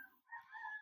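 A single short, faint clucking call from one of the large chickens kept on an ostrich farm in Negros, heard alone in quiet surroundings.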